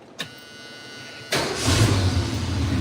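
A carbureted car engine catches and settles into a steady idle, loud and close, with a rumbling low roar after a brief click and quiet hum; no talking.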